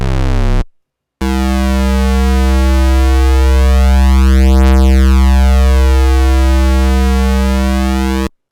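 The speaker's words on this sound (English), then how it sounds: "I am going to go ahead and bring in the pulse wave here." A D16 LuSH-101 synth plugin playing a pulse wave, a loud buzzy sustained tone that cuts briefly and then returns as one long steady note with slowly shifting overtones, with no talk.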